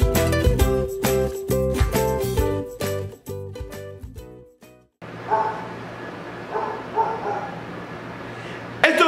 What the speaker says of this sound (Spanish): Están ladrando.